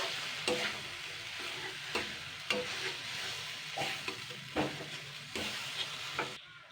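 Silver carp pieces coated in batter stir-fried in a pan, a steady sizzle broken by repeated scraping stirs at an irregular rhythm, close and fairly loud with no talking.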